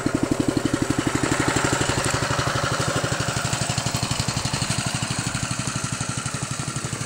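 A homemade generator powered by a Honda engine runs steadily nearby, with a fast even putter of exhaust pulses under a broad mechanical hum, unbroken for the whole stretch.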